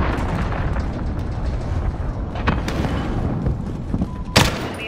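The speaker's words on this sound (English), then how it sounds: "Enemy cruise missile incoming!" A cruise missile strikes in a video game battle, with a dense rumbling din of gunfire and blasts building to a sharp, loud explosion near the end.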